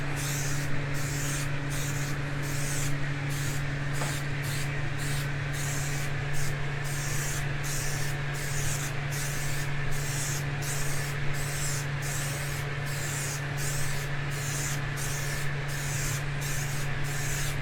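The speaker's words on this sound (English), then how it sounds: "just spray it on like you do spray paint" A continuous hiss of an aerosol can spraying rust remover onto a table saw close by, steady and unbroken over a low hum, with faint rubbing sounds underneath.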